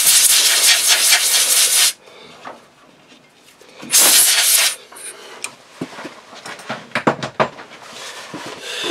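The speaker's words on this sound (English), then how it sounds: "Just get the air gun, blow all that crud out of there." A compressed-air gun blasts crud out of a turned wooden flower pot in two loud, close hissing bursts, followed by softer rubbing and tapping sounds.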